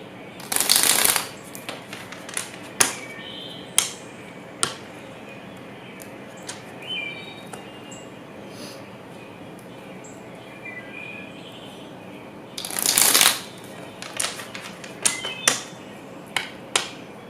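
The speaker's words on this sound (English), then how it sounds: "you can fast forward through this part if it's too long of shuffling for you" Tarot cards being shuffled by hand, loud riffling bursts at the start and again near the end, with softer scattered card taps and slides in between, no talking.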